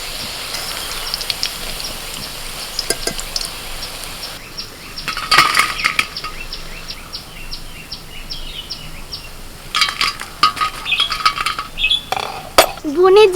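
Metal utensils clink against a pan while fried jackfruit pakoras are lifted out, with scattered light clinks and scrapes, a louder cluster midway and toward the end, over faint sizzling and background household sounds.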